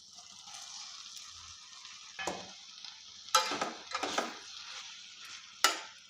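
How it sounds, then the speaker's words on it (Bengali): Boiled banana flower and potatoes are tipped into a pan for a banana flower and prawn curry, then stirred: a few sharp clattering scrapes and thuds over a faint, steady sizzle, with no talking. "এবারে দিয়ে দেবো সেদ্ধ করে রাখা মোচা ও আলু"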